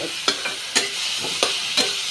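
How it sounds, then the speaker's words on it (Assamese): Ground cumin and coriander powder fry in a pan, giving a steady sizzle broken by five sharp spatula scrapes at a roughly even pace, close and fairly loud, with no voices. "জিৰা আৰু ধনিয়াৰ গোন্ধটো অলপ মানে মৰালৈকে, গোন্ধটো যোৱালৈকে অলপ ভাজি দিওঁ মই।"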